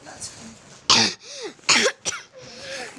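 Several harsh coughs burst out close to the microphone during a casual Minecraft gaming session, two big hacks and a short third, with speech around them.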